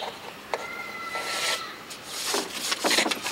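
Scribing a cut line onto a sheet for a bus shower door, the tool dragged along a pattern lined up in the corner, giving faint scratchy rubbing strokes that grow busier and louder toward the end.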